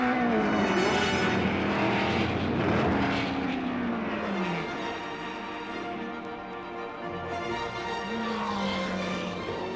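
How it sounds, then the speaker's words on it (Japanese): Nissan R381 race car lapping a circuit, its engine droning loudly and steadily with rising and falling pitch as it passes through corners, no voices present. "コーナーごとにエアロスタビライザーを羽ばたかせ R381 は回走を続ける。"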